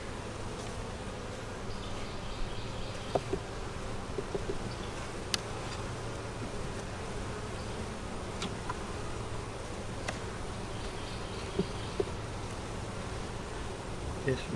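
Honey bees in a double deep eight-frame hive give a steady, fairly quiet buzz throughout a frame inspection, with a few brief clicks and knocks over the drone.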